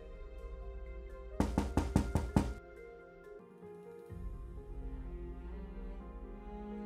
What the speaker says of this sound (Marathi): तितक्यात बाहेरून दरवाजा ठोठावण्याचा आवाज झाला.